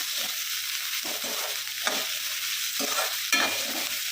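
Onions and tomato sauté in a pan for quail egg thokku: rhythmic spatula strokes scrape through the pan roughly every half second over a continuous close sizzle, with no voices.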